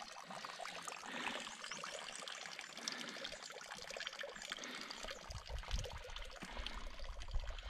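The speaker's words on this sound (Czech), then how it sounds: "Jsme u dalšího pramenu už pod Zlatým chlumem." Spring water trickles and splashes steadily at a mountain spring below Zlatý chlum in the Jeseníky hills, close and continuous with no voices.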